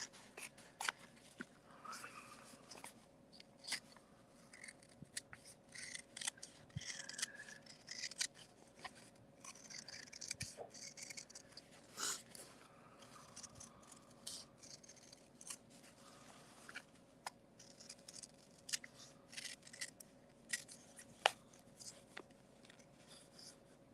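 Scissors snip steadily through paper, a long run of small crisp cuts at an uneven pace, close and fairly quiet with no talking.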